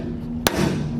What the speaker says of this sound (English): 4-pound hammer, and then just start wailing on it.